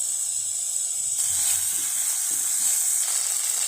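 Spices and ginger paste frying in a pan with a splash of water, for a cauliflower dal. A continuous, close, bright sizzling hiss holds steady throughout, with no talk.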